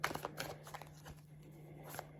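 Quiet, close tarot card shuffling: soft papery riffles and flicks in quick, irregular bursts, with no one speaking.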